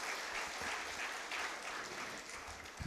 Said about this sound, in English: Can we please give her a warm round of applause again for that really informative message?